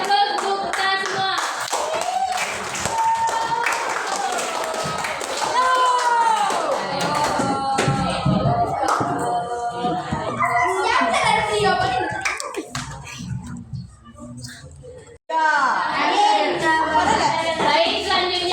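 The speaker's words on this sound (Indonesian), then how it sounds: "kasih aplaus untuk kita semua" Classroom applause: many hands clapping loudly and continuously over excited children's voices and chatter, fading briefly before a burst of noise returns.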